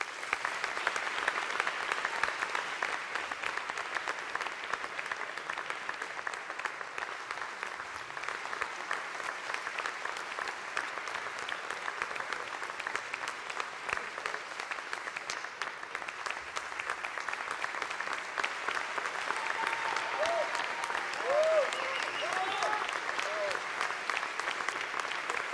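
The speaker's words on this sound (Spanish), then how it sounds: "Un fuerte aplauso." An audience at the Aragonese music awards ceremony in Monzón applauds long and steadily, a dense wash of many hands that holds at an even level throughout.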